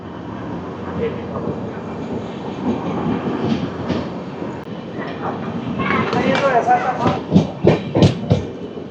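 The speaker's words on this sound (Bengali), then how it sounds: "আমাদের ট্রেন 2 মিনিট দাঁড়িয়ে ছেড়ে দিয়েছে পরাশনাথ" The Rajdhani Express rolls out after departing Parasnath at night, heard from inside a first-class AC coach as a low rumble with rising rhythmic wheel clatter, while people talk nearby.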